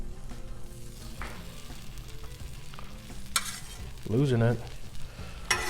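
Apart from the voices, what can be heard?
shrimp fajitas sizzling on Blackstone griddle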